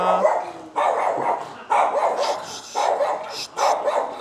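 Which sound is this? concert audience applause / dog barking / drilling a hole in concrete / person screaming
dog barking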